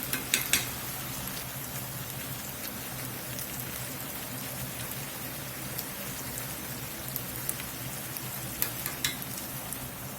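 Squash frying and browning in a Southern-style skillet, a steady dense sizzle like light rain with a few sharper crackles and pops near the start and end, close by, with no talking.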